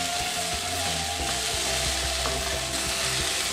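Small-cut potatoes fry in a pan with a constant, dense sizzle and faint clicking underneath, steady and close, with no voices.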